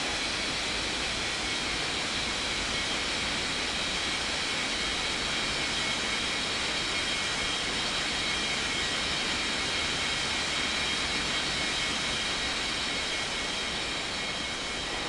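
Jet airliner engines droning steadily at an airport while taxiing, a loud, unbroken broadband roar lasting throughout with no pauses.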